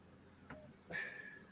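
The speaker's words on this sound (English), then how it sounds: "You can hear crickets" Crickets chirp outdoors, faint and steady, in a thin high trill that continues through the clip. A couple of soft rustling noises break in.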